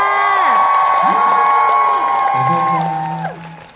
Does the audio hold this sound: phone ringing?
no